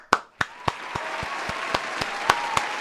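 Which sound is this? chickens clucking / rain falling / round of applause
round of applause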